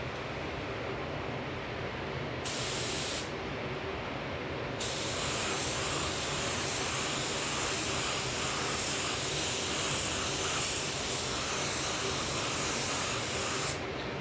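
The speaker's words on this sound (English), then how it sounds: "I like to shoot these candy based pearls at like 22 to 21 PSI" A paint spray gun hisses steadily while shooting candy-based pearl paint at about 21 to 22 PSI, a loud continuous airy spray that cuts off briefly once and then resumes.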